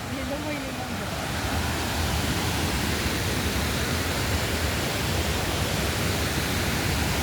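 The waterfall at Dhutpapeshwar temple in Rajapur, Konkan, makes a dense, steady rushing roar that fills the whole stretch evenly and loudly, with a faint voice briefly under it at the start.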